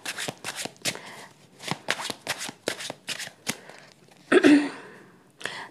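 Tarot cards being shuffled by hand, with a quick series of crisp riffling flicks and soft slaps, close and clear, ending in a longer brushing riffle.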